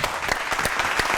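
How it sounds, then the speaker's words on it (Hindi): An audience at a Pakistani comedy show breaks into a dense, steady burst of applause, close and loud, with no talk over it. "वो है हमारी ऑडियंस। तालियां।"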